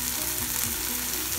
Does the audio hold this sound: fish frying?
yes